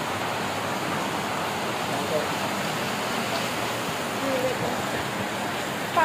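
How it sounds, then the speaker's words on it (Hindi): Loud, constant roar of heavy monsoon rain in Mumbai, a dense wash of noise with no pauses throughout. "बहुत ज़्यादा तेज़ बारिश है"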